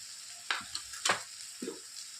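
Onion-garlic masala with turmeric, coriander powder and chili powder fries in a pan, giving a steady soft sizzle. A few scraping stirs of a spoon break through it, heard up close.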